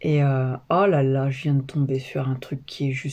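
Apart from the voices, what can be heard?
No distinct noise like a dog, phone or traffic.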